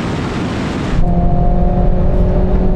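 A BMW M340i, an AMG A45s and an Alfa Romeo Stelvio QV accelerate hard in a drag race, a broad rush of noise that gives way to a loud, steady engine roar with a rising tone.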